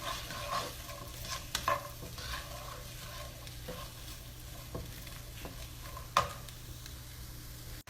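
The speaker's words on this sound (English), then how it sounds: "I've sauteed them in a little bit of olive oil" Onion and celery sauté in olive oil with a steady, close sizzle and frying hiss, with occasional stirring scrapes and clicks of a utensil against the pan.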